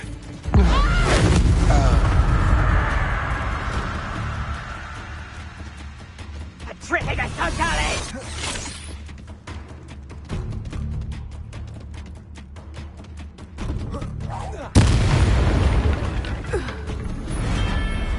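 A Confringo spell blast in the video game Hogwarts Legacy: a loud booming burst with rumbling, creaking mechanical clatter and debris noise, followed by quieter shifting sounds and a second sharp impact near the end, mixed with game voices.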